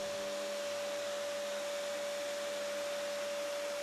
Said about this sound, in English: now I will get it somewhat leveled out with 80 grit sandpaper